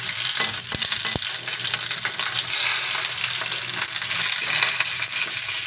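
Ground meat mixed with egg fries in a pan with a loud, steady, close sizzle and crackle. A couple of sharp metallic taps from a utensil ring out early on.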